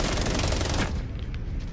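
Loud, dense burst of rapid automatic gunfire in the game Rainbow Six Siege that cuts off abruptly, followed by faint scattered sounds.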